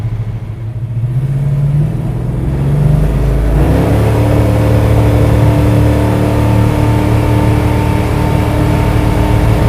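Plymouth Superbird clone engine roaring as the car accelerates hard, a loud rising V8 growl building after a few seconds and holding at speed, close and unbroken with no talk.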